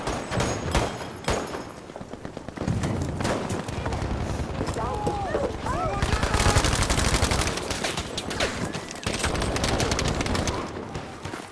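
Heavy gunfire in the Battlefield V video game, a sustained, loud barrage of overlapping shots and bursts with occasional booms, while a player talks over the shooting.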